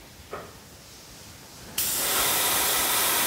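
An airbrush spraying contrast paint gives a short faint puff, then bursts into a steady loud hiss that continues to the end.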